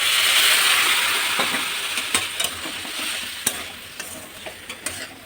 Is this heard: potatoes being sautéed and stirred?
yes